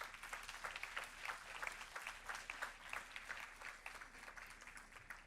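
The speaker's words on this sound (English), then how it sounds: "Let's give him a round of applause." Audience applause at a board meeting, a steady wash of many hands clapping at moderate distance, sustained and fairly even for the whole stretch without voices standing out.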